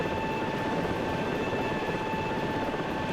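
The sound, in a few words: helicopter in a video game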